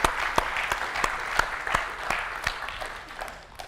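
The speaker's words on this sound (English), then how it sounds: "maybe we give all contributors to the open source community a big round of applause" At the UI5con 2024 conference an audience gives a round of applause for open source contributors, a lively burst of clapping with distinct close claps standing out, tapering off toward the end.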